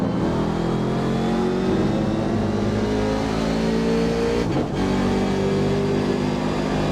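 Race car engine from the iRacing sim on an oval track, a loud sustained high-revving drone that holds steady with one brief dip and shift in pitch, no speech.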